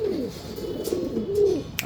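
A pigeon of Vizianagaram, Andhra Pradesh stock coos close by in a few soft, rolling phrases that rise and fall, with a longer, stronger coo near the end.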